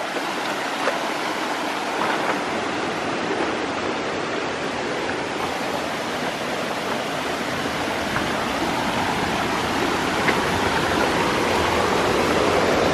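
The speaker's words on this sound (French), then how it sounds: "Un petit barrage." Water pours steadily over a small dam, a constant loud rushing wash heard close up for the whole stretch, with no voices.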